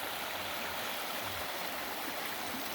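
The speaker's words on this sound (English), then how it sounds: "I'll pan along this stream right here." A North Georgia mountain stream rushes in a steady broadband wash of flowing water, close and constant for a few seconds with no voices.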